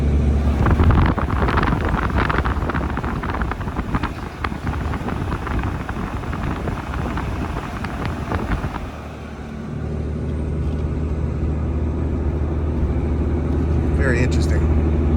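A truck engine drones loudly as it pulls a loaded 24,000 lb GVWR hooklift trailer up a steep slope, a continuous low rumble mixed with heavy wind buffeting, easing slightly partway through.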